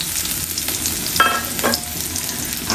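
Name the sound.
onions frying in oil for drumstick leaf bhaji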